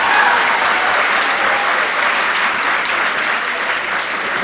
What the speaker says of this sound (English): We've got a round of applause again to the Cyberners.